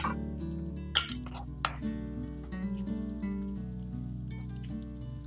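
A spoon stirs chaat masala and garam masala through kele chana in a pan, giving light metallic clinks with one sharp clink early on, over quiet tonal background sound.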